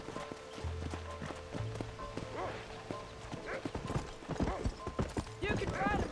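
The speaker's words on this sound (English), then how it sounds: "Paul, my horse isn't fast enough." Horse galloping in the video game Red Dead Redemption, rapid rhythmic hoofbeats close up with an occasional whinny, under game character dialogue.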